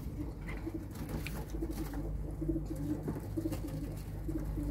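Pigeons on a rooftop terrace coo in soft, repeated low murmurs against a steady background hum, continuous and fairly close throughout.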